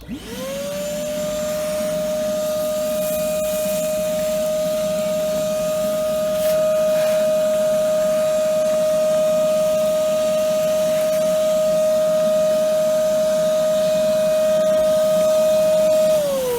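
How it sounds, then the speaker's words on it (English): A vacuum cleaner cleaning around the top of a chimney drones loudly and steadily, with a high whine that starts at once and cuts off at the end. No one speaks over it. "clean up round the top here with the hoover. It's going to be a bit noisy."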